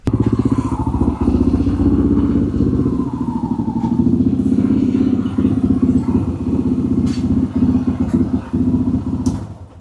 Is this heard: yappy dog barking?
no